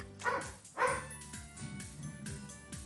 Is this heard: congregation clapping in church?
no